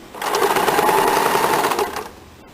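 Sewing machine stitching a fabric strip onto a blouse neckline, one continuous close and loud mechanical whir of about two seconds that then stops.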